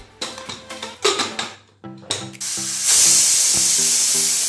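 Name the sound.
pressure cooker whistle releasing steam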